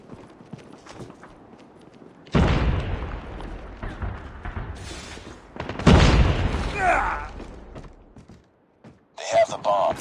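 Frag grenade blasts in Call of Duty Mobile: two loud, booming explosions a few seconds apart, each decaying into rumble, with brief game voice lines and clatter around them.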